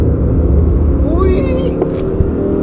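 A 2021 Audi R8 is driven hard through corners on a road, its engine a steady low growl close by with short tire and wind sounds over it.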